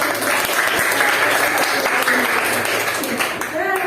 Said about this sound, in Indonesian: tepuk tangan sama teman-teman